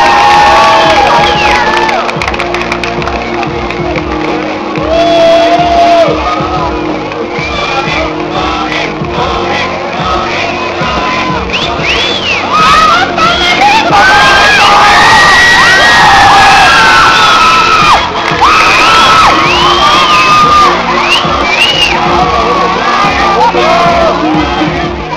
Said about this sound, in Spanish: con un fuerte aplauso recibamos a todos los participantes de Cosplay